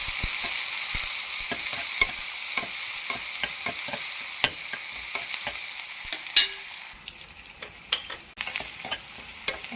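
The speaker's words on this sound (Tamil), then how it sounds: "வெங்காயம் நல்லா வதங்கட்டோங்க" Onions sautéing in a pan for potato rice, a steady bright sizzle broken by repeated scraping taps of a spoon stirring, fairly close and alone with no voices.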